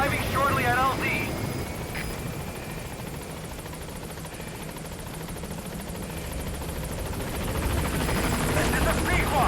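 Pequod, the support helicopter in Metal Gear Solid 5, approaches a landing zone with a steady rotor thump and engine roar that stays loud throughout, swelling slightly near the end; a brief radio-style voice is heard early on.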